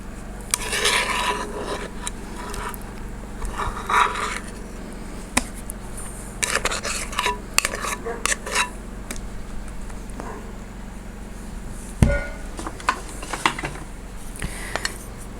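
Chocolate cake batter is scraped out of a bowl with a spatula, producing intermittent rasping scrapes and soft knocks against the bowl, fairly close and moderately quiet.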